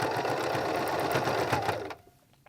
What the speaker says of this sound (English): Back to your sewing machine. Remember to put your needle down first.